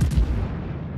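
A booming naval gun salvo from the German battleship Bayern in World of Warships, a single loud heavy blast with a rumbling low-end tail that fills the whole second.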